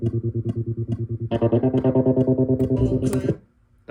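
Electric guitar run through a square-wave modulation plugin, its sustained chords chopped into a fast, regular on-off pulse, louder and brighter after a chord change midway, then abruptly cutting to near silence at the end.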